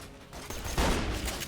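Shotgun fire from the video game Borderlands: The Pre-Sequel comes as a short burst of blasts, with one loud boom standing out over the game's background noise.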